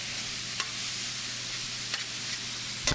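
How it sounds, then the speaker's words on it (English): White wine sizzles as it deglazes a hot pan of lobster and shallots, giving a steady close frying hiss with a few soft stirring scrapes breaking through. "we're going to deglaze with a white wine, just a basic table white wine"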